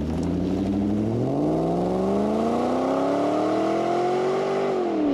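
A Yamaha-built 4.4-litre V8 in a Volvo XC90 revs steadily upward, its engine note climbing in pitch over several seconds before dropping off, loud and close with no talking.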